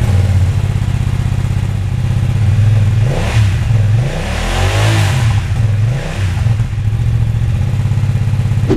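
A BMW F 900 R streetfighter's two-cylinder engine with a 270-degree firing order revs loudly and close by, its throbbing idle rising into a couple of throttle blips before settling back.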